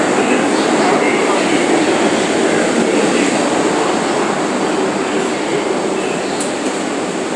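Loud, constant roar of a New York City S shuttle subway train in motion, heard from inside the car with steady rushing rail noise throughout.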